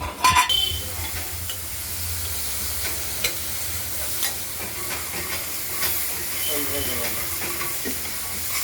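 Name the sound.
bitter gourd and pumpkin frying in a pan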